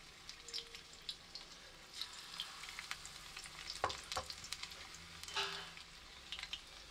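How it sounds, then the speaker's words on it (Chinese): Battered shrimp tempura frying in a small amount of oil, one or two pieces at a time: soft, steady crackling sizzle with scattered pops and bubbling bursts, fairly quiet and close. "然后轻轻放入锅子里面， 因为油量不多，保持油温，一次只能炸一两片"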